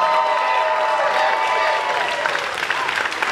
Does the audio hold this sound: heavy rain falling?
no